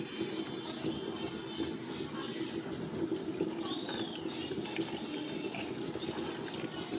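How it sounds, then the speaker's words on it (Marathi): Water poured into freshly ground rava dosa batter of semolina, rice flour and curd, a soft steady liquid pouring and trickling sound at close range, continuous and fairly quiet throughout. "तर यामध्ये आपण थोडं पाणी ॲड करूया।"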